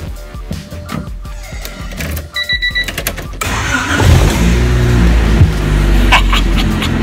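A Honda Civic EG with a D15B7 engine cranks with a rapid chugging starter whir, then catches and settles into a steady, close idle that keeps running to the end.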